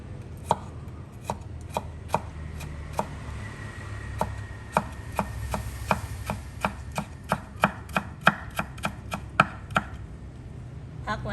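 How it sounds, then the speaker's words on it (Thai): A knife dices tomatoes into small cubes on a cutting board for avocado salsa, giving a steady run of sharp, close chops, about two dozen crisp strikes at an uneven but brisk pace with no talking. "หั่นเป็นเต๋าเล็ก ๆ เหมือนกันค่ะ"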